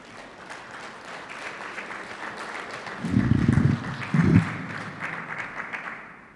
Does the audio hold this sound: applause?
yes